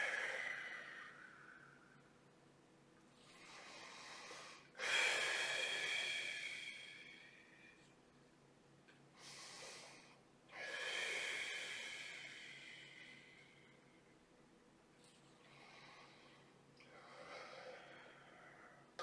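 Long exhaled breaths during a floor Pilates exercise, soft airy rushes that swell and fade in a slow rhythm, close and fairly quiet.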